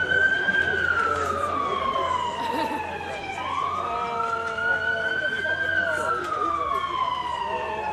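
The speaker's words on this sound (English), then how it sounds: "I'll let the siren get done doing its thing." Emergency vehicle siren passing outdoors at a Memorial Day service in Hyde Park, a loud sustained wail sweeping slowly up and down over about eight seconds with engine rumble beneath and faint voices in the background.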